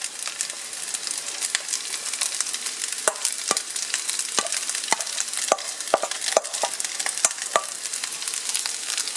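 Eggs and ham frying for pork fried rice, with a steady crackling sizzle in a pan and repeated sharp scraping clicks of a utensil stirring, close and fairly loud, no talk.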